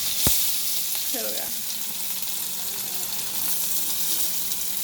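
Onion fries in hot oil in a pan for noodles, a steady dense sizzle and crackle filling the whole clip, with a brief tap and a short spoken phrase over it.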